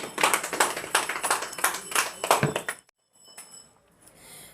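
An audience at a network marketing product meeting breaks into brief, lively clapping for a few seconds, then it stops abruptly, leaving a quiet room with faint residual noise.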